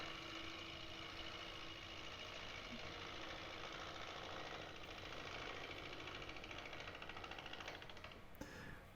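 A lathe gouge cuts a moist black cherry natural edge bowl, producing a continuous rough, buzzing grind with a rapid chattering texture. The sound stays steady and close throughout and stops abruptly near the end.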